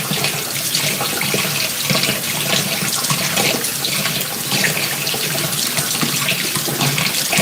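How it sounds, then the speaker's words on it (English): Running tap water pours steadily into a sink as items are rinsed, a continuous bright hiss and splash that stays even and close throughout with no talking. "What I will do is rinse these off though."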